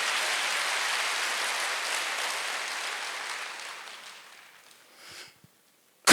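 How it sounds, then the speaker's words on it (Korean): A church congregation at a Sunday service claps together in a sustained burst of applause that gradually thins and fades out, ending with a few scattered claps. "빨리 박수하세요"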